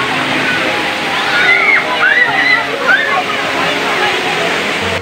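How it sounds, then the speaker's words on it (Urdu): A large mountain waterfall at Kashmir waterfall in Pakistan roars in a loud, continuous wash of falling and splashing water, with faint voices of people nearby mixed into the spray. "یہ پہاڑ سے نکلتی ہوئی ایک بہت ہی خوبصورت اور بڑی آبشار ہے"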